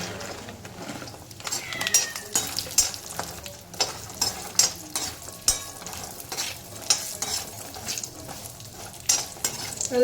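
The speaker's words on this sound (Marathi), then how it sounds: "आता यात आपण अक्रोड तळून घेऊया." Walnuts fry in a pan of ghee after edible gum, a soft steady sizzle broken by repeated sharp scraping and clinking strokes of a spatula stirring through the pieces, no voices.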